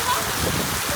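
Steady rain falls in a continuous, fairly loud patter and hiss over about a second, with a voice faintly present underneath.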